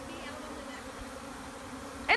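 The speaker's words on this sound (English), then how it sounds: "So many bees." A swarm of honey bees drones in a steady, dense hum that stays even and close, with a short sharp sound at the very end.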